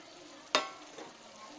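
Eggplant pieces dropped into a hot pan of oil for dry fish kulambu, giving one sudden sizzling crackle that fades quickly, fairly faint, with a slight second stir sound after.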